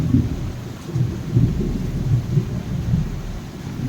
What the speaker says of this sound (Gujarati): અત્યારે શું વરસાદ પડી રહ્યો છે